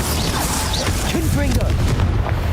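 In Hogwarts Legacy, a Confringo fire spell goes off as a dense, rumbling magical blast with mechanical whooshes, sustained and loud under a brief voiced spell call.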